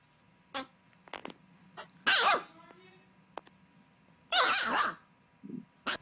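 A dog gives several short, sharp barks and yips at irregular intervals, close by and fairly loud, with quiet gaps between the bursts.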